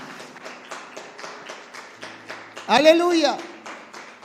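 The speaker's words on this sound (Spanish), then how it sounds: "¿Cuánto pueden dar un aplauso al Señor en esta noche?" A church congregation bursts into a short round of applause after a preacher's call, a loud crackle of clapping that follows a spoken exclamation and several sharp taps.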